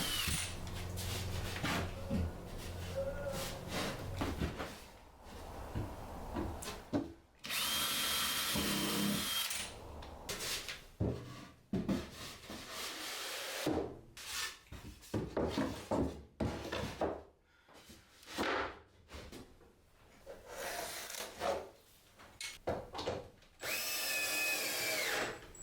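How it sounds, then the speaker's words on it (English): Power drill boring pilot holes into wooden parts of a wine rack under construction, several bursts of loud, close whirring separated by pauses and clatter of handling the wood; no talking. "I'm going to pre-drill some pilot holes now while I've got it out"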